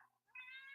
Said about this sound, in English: she's meowing at me